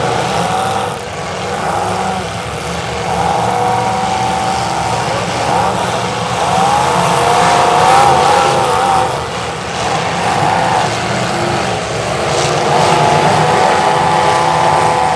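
Engines roar and whine as demolition derby cars rev across the arena at a county fair, a dense, steady wall of motor noise with rising and falling tones heard from a distance.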